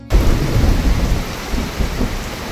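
A thunderstorm: loud, continuous heavy rain with a deep rolling rumble of thunder underneath, starting abruptly and holding steady throughout with no voices.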